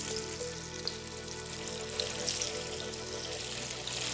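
White fish fillets frying in a pan give off a loud, continuous bubbling sizzle that stays steady from start to finish, with no talking over it.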